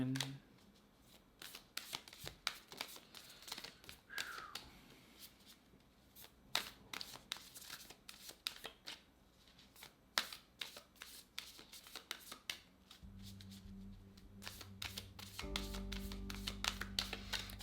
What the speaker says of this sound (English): Let's pull you a spirit animal oracle card